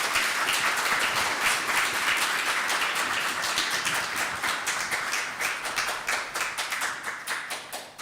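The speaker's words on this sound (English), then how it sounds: "So, first of all, a round of applause," Sustained round of clapping from an audience at a tech meetup, dense and steady throughout, thinning slightly toward the end, with no talking over it.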